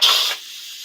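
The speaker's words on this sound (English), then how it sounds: "you just press the button to release all the pressure" An Instant Pot lets off its pressure in a sharp, loud burst of steam hiss that fades quickly into a soft lingering hush after the release button is pressed.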